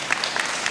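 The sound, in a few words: audience applause at graduation ceremony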